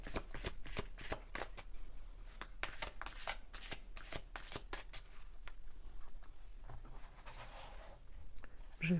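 Tarot cards shuffled by hand in a steady run of crisp riffling bursts, close and fairly quiet, continuing without talk for the whole stretch.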